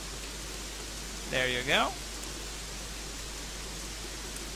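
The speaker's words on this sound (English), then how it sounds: "We have rain, which is amazing. I can barely hear myself." Steady rain in the video game Gothic 3 hisses continuously and evenly throughout, with a person briefly speaking over it partway through.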